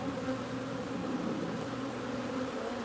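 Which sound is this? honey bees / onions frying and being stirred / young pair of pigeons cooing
honey bees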